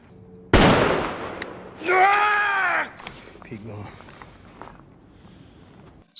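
A single sharp gunshot from a film scene cracks loudly and alone, followed a moment later by a sustained tonal ringing burst and then quiet scattered noises.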